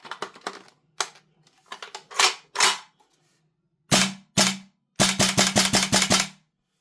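Tokyo Marui Saiga-12K airsoft shotgun fitted with a short barrel firing a series of sharp, loud cracks, scattered single shots at first and then a rapid cluster of about eight, with mechanical clicks between bursts.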